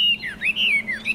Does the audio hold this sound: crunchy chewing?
no